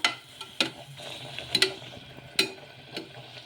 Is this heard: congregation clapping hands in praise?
no